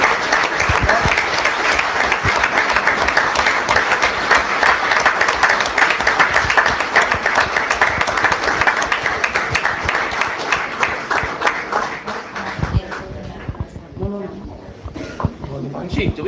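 Sustained applause from a meeting audience honouring a town police chief and department, dense steady clapping for most of the stretch, then thinning out as a voice begins speaking near the end.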